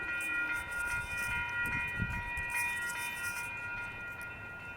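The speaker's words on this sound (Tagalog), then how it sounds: "Yan na yung tren." A train rumbles past steadily, with a sustained tonal hum and low rolling noise, fairly close, no talking.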